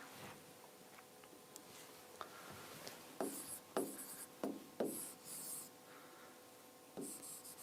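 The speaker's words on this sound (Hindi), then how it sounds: "चलो अब एक होमवर्क लिखते हैं" Chalk or marker scratches and taps across a classroom board in short strokes and bursts, faint and close, with a few quiet pauses between the marks and no talking.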